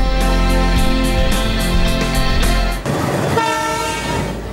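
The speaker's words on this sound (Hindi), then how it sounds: "सीटी बजाते हुए इंजन बढ़ चला है।" A locomotive engine trialing on the Digha-Sonepur rail bridge in Patna rumbles loudly and sounds a long, sustained whistle, with heavy rolling noise following as it moves off.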